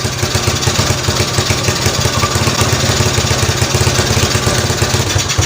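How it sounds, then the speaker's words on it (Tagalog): A motorcycle engine runs just after a throttle cable repair, giving a close, loud, steady idle with fast even pulses and a low rhythmic chug throughout. "Tignan, revolusyonan ko."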